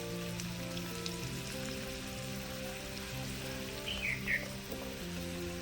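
Onions and green chillies fry in oil in a pan, a soft, steady crackle at low level beneath a faint continuous hum, with a couple of small spatters near the end.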